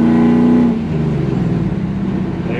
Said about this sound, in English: you just barely hear the exhaust, but when you wanna let them hear the bald eagles,